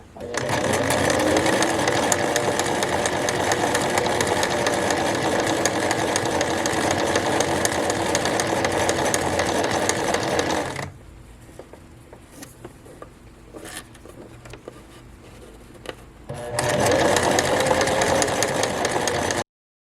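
A sewing machine hems a formal dress, its rapid needle chatter running loud and steady, then pausing for several seconds of quiet handling before the stitching starts up again.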